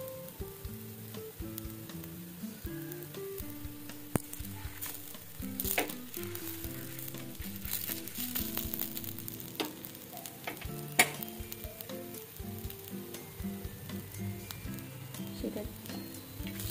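Cucumber thalipeeth fries in a hot pan with a steady, close sizzle running throughout, broken by a few sharp crackles and pops, with faint tonal background sounds underneath.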